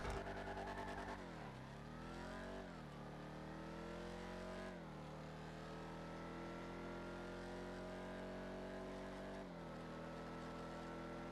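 Armored Vapid Dominator car in Grand Theft Auto Arena War, fitted with a blast shield, accelerates hard: a loud engine revs up through several gear shifts, each shift dropping the pitch before it climbs again.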